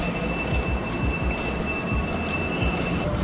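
A train rumbles steadily at a Chinese railway station, with continuous loud low-frequency rolling noise, rhythmic wheel thumps and a faint high whine throughout.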